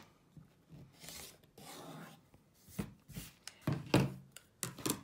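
Blades and a rotary cutter rasp and scrape faintly against fabric along a ruler while trimming quilt block pieces, coming as short irregular strokes and rubs with small knocks.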